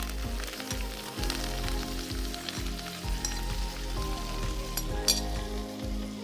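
Aromatic vegetables tossed into a hot pan with oil for an iftar recipe, sizzling and frying steadily, with rhythmic stirring scrapes and a few clinks of a utensil, close and loud without talk.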